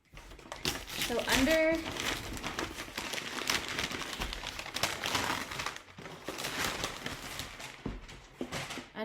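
Plain brown paper packaging around a lingerie gift box is unwrapped, with close crinkling and rustling that runs steadily under ongoing speech.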